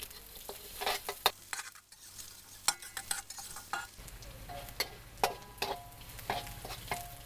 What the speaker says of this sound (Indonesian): Kita tumis sampai harum ya.